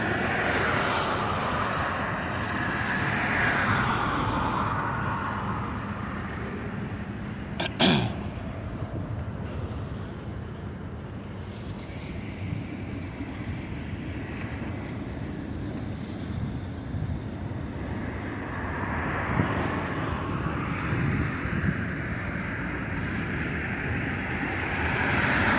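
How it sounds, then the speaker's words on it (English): CSX freight locomotive picking up speed, heard from inside the cab: a loud continuous engine roar with rising and falling tonal swells, a brief sharp click near the middle, and steady rushing noise throughout. "So I can tell that the train is picking up speed."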